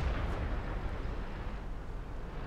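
A tank shell striking the turret in World of Tanks, fired from a T-69 at a Tiger II, arrives as a heavy, rumbling low boom that holds steady and dense for the full stretch, with no talk.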